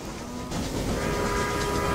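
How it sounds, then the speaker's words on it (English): Train running in the Railway Empire game on PS4, a close steady rumble of wheels and engine with a sustained whistle-like tone, no talk over it. "Train's going in very nicely indeed"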